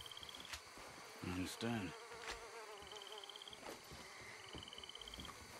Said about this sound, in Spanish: me molesta el sonido de los mosquitos